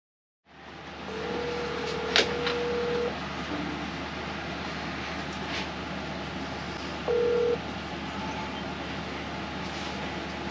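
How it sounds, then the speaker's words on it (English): A loud, steady fan whirs aboard a 1980 Gulfstar 50 sailboat, a constant broadband rush filling the whole stretch, with a couple of brief electronic beep tones over it. "Fan's really loud."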